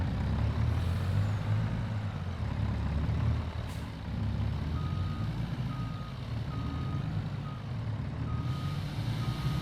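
A truck reversing on a dairy farm, its backup alarm beeping in a steady evenly spaced series over a loud, constant low engine rumble, with no talk.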